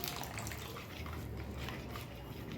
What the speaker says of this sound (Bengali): সামান্য সামান্য একটু জল দিচ্ছি